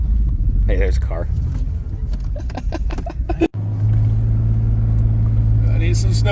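A car drives past outdoors in snowy conditions, a loud steady low rumble filling most of the clip after a brief dropout, with people talking over the first half.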